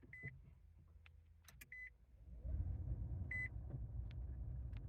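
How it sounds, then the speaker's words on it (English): Start-up chimes from a 2023 Nissan Leaf SV Plus electric car: three short, clear electronic beeps spaced over several seconds, over a low, steady rumble that grows slightly louder partway through. "you don't really hear anything aside from a couple of beeps"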